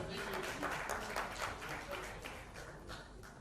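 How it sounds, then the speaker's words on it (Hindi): Audience applause at a Bhojpuri film music launch on stage, a steady wash of clapping from a crowd, fairly quiet and distant, with voices mixed in. "जोरदार तालियां हो जाए everyone."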